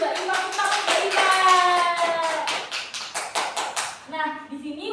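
A classroom group claps for a student during a practice teaching lesson, a burst of steady hand claps with voices sounding over them, thinning out toward the end.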